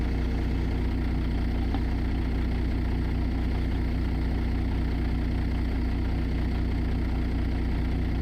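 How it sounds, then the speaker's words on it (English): A truck's C15 engine sound pack mod in a trucking game on a cabover hauling livestock idles in a steady, low, rumbling drone that stays close and even throughout with no talk. "that is that ZEEMOD I was telling you about earlier, my friend, the C15 MBN engine and sound pack mod"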